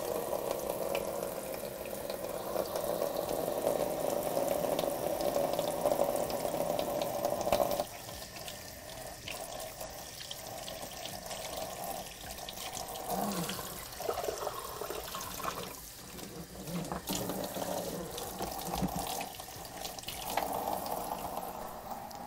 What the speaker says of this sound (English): While I'm here, I'll wash my hands.